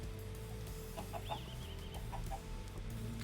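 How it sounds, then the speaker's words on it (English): Minecraft chickens clucking, a few short bursts of clucks over steady background game noise, fairly faint. "Very clearly, there are still chickens here."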